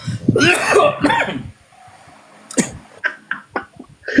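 A burst of harsh coughing up close, then a quiet pause followed by several shorter coughs and throat clearing in an uneven rhythm.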